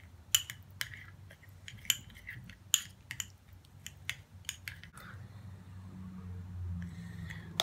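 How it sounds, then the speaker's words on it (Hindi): Rose serum ingredients being mixed with vitamin E oil in a small dish, sharp clinks and taps of a spoon against the container repeating irregularly, then a softer steady stir near the end. "इन सब चीज़ों को हम मिक्स करेंगे।"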